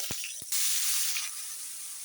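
Greens frying in oil with dried chili and a little turmeric, opening with two sharp taps before a loud, close sizzling hiss rises and then settles slightly.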